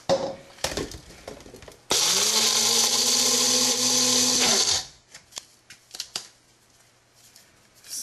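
Kitchen blender grinding dried guajillo chili peppers, a loud close whir running steadily for about three seconds and then cutting off, with clattering handling sounds before and after.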